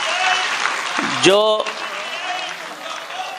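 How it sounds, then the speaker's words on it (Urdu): Audience applause at a public gathering on the Babri Masjid, a steady broad clapping wash throughout with a brief voice rising through the middle. "آپ سب تالیوں سے استقبال کریں ایسے لوگوں کا"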